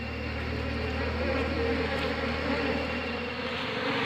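Bees buzz thickly around a hive box during a colony removal, a continuous close droning hum with steady intensity and no voices.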